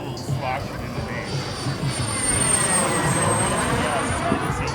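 An Elite Aerosports Picaro airplane makes a slow pass with flaps down, its engine a steady, fairly loud drone that swells slightly as it passes, with a person talking over it.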